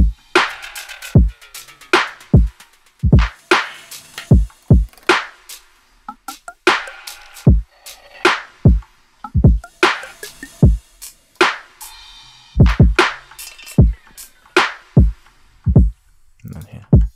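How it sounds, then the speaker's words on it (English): Drums and percussion from a music track, built around a drum break, play together in a punchy, rhythmic groove of sharp, loud hits with crisp cymbal-like transients between them. "the drums and percussion sound like this together"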